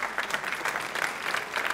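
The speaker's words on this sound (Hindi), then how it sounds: "तालियां जोरों से बजाइए आप।" Audience applause at a televised quiz show, a brief burst of brisk, crowded clapping with an even, rapid texture, moderately loud and steady from start to finish.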